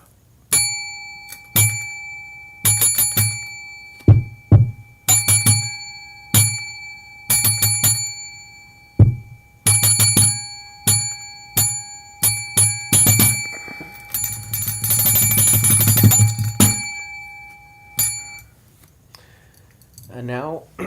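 A bell section plays a series of bright, ringing bell strikes in an irregular rhythm. A dense, sustained ringing passage comes near the end before the bells fade out. The sound is loud and close.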